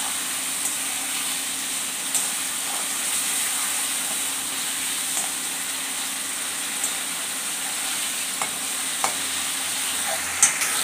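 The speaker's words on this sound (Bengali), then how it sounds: "এবার টমাটোটা ভালো করে আমি কষিয়ে নিব যাতে টমাটোর কাঁচা গন্ধটা না থাকে" Tomato cooks down with salt and turmeric in a pan for an aloo-kola-potol curry, a constant soft sizzle and hiss with occasional faint spoon taps, near and steady without talk.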